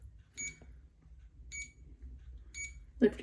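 Three high, evenly spaced electronic beeps about a second apart from an IV infusion pump priming a Remodulin cassette, each a short double chirp, over a quiet low hum, with a faint voice starting at the end.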